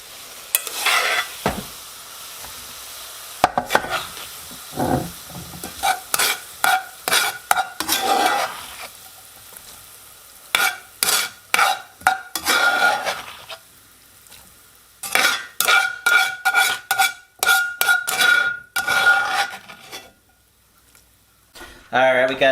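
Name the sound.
frying onions and garlic for rabbit stew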